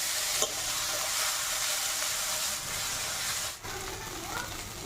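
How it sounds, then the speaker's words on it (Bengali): Ground spices with turmeric and black pepper fry and get stirred in a pan, giving a steady, close, broadband sizzle with scraping stir sounds and a brief dip near the end. "হলুদ গুঁড়ো দিয়ে দেবো, ভালো করে একটু কষে নেব।"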